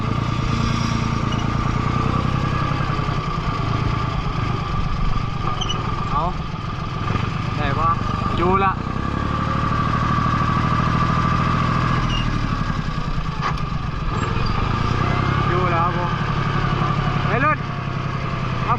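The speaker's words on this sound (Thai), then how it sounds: "รถไถดึงมุมนี้พอดีเลย" A tractor engine runs steadily with a low, rumbling drone while pulling a pickup truck that slid off a road in the rain, while people talk over it.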